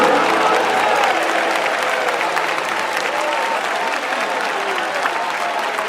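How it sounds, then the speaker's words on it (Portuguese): A Pentecostal church congregation claps loudly and steadily in sustained applause, a dense continuous wash of hand claps filling the room with no pauses. "Mais forte as palmas para o Rei."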